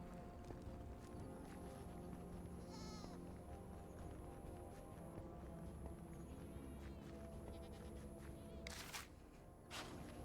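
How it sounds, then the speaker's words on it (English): Goats bleat in the Minecraft Dungeons video game, a few short bleats heard over steady game music and footsteps. "The goat noises are so cute."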